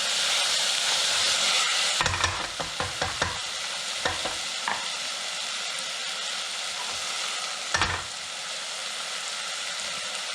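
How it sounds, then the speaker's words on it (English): A pot of sweet potato lentil soup with a bay leaf sizzles and hisses steadily while a spoon scrapes and knocks against it in a short cluster of stirring clanks, then once more later, with no voices. "and the bay leaf. Give it a quick stir."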